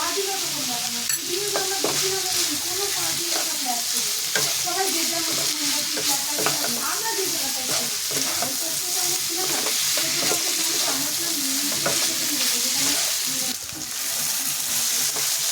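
Curry with sugar stir-fried in a pan over low gas, a steady loud sizzle running throughout with repeated spatula scrapes and stirring, no talk over it.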